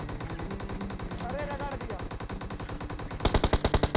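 Rapid automatic gunfire from the mobile battle royale game PUBG Mobile rattles steadily throughout, with a louder, heavier burst of shots near the end and a faint voice briefly underneath.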